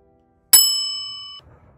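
A single bright notification bell ding struck once and left to ring out for nearly a second before cutting off, loud and alone.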